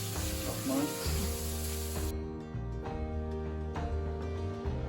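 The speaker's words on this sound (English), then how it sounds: "you take a knob of butter, put it in, and let that melt and saute out" Knob of butter melting and sizzling in a pan with onion, a steady close frying hiss under a low kitchen hum, with a light clink now and then.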